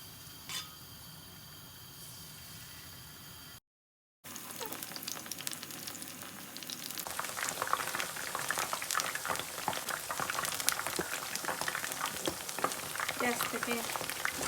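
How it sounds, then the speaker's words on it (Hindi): Manchurian balls fry in about a cup of hot oil in a pan, a dense, steady sizzle and bubbling that grows louder and fuller after a short break in the sound, with no talking. "अब हम इसको 1 कप ऑयल पैन में गरम करके इन्हें फ्राई कर लेंगे।"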